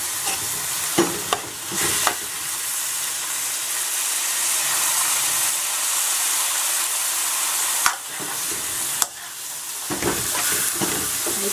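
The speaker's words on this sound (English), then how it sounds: "We've got a very hot wok here, so it's not going to take very long at all." Chicken chow mein with pork and prawns stir-frying in a very hot wok, a loud steady sizzle and hiss with scraping stirs and clanks of the utensil at intervals.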